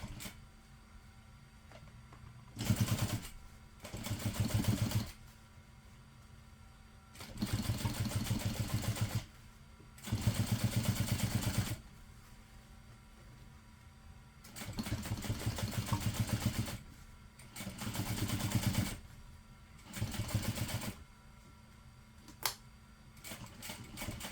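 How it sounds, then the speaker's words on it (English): A home sewing machine top stitching with a 5mm stitch length runs in several steady bursts of a few seconds each, separated by quiet pauses, close and fairly loud, with no talk. "I'm using my longer 5mm stitch length, since this is top stitching"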